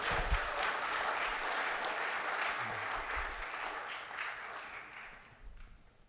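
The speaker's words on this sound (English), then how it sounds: "Give these guys a round of applause." Sustained applause from a church congregation, fairly loud and dense, tapering off near the end.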